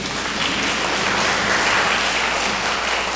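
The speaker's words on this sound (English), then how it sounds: "So if you give a round of applause to our congregation for that." A church congregation applauds its volunteers, a loud, continuous wash of many hands clapping at once that holds steady throughout, with no voices breaking through.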